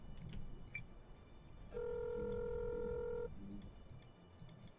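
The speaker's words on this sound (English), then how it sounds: "I'm gonna grab my phone. I'm gonna start calling." A phone dialing in a driving video game, a few quick keypad beeps followed by a steady electronic tone held for about a second and a half over low background game noise.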